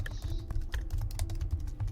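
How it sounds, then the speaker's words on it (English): Rapid keystrokes on a computer keyboard clatter in an irregular burst over a steady low background hum, typed during an online Dungeons & Dragons 5th edition game session. "Just typing a little heart in there for the chat."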